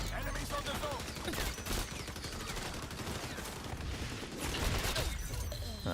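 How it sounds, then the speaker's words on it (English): Shotgun blasts in the XDefiant shooter, close repeated booming shots amid a busy, continuous mix of game gunfire and clatter, with no clear pauses. "Let's try a shotgun."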